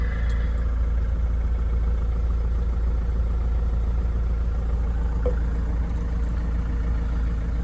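A Land Rover Defender 110 long-wheelbase seven-seater idling after starting, a steady low diesel-like rumble that holds constant and loud from start to finish.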